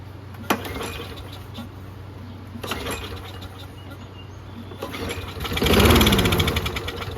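A Toro Recycler lawn mower engine cranks over with a mechanical churning that builds and swells near the end, loud and close against a steady low hum, with no voices.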